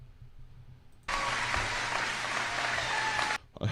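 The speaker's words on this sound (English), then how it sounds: "Why are they cheering?" A crowd at a Donald Trump rally breaks into sustained cheering and applause that starts abruptly, holds loud and steady for a couple of seconds, then cuts off.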